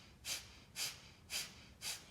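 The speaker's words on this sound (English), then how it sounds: "the breath of fire is equal inhales and exhales through the nose, belly pulling sharply in when the exhale happens" Four sharp, evenly spaced nasal exhales of breath-of-fire breathing, each a quick breathy burst about half a second apart, close and fairly quiet with no talking.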